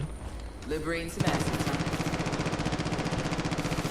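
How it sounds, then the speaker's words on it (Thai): Rapid automatic gunfire in the video game Far Cry 5, a steady rattling burst of shots running continuously after a short sound at the start. "ทำไมมีเสียงปืนแถวๆนี้ด้วยแป๊บนึง"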